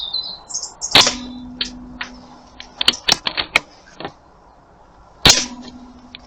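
Gunshots from a scoped gun aimed at matches: two sharp loud cracks several seconds apart, with a cluster of smaller clicks and taps between them, close and outdoors.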